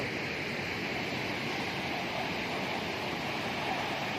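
Rushing water pours through a canal with some sluice gates open, a steady, loud, unbroken roar and hiss that stays even throughout with no voices.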